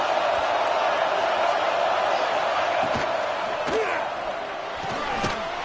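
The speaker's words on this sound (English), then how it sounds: "this big crowd doing everything possible to inspire this defense down here near the goal line" A big football stadium crowd roars steadily as the defense holds near its own goal line, a dense, continuous wall of cheering with a voice faintly audible over it.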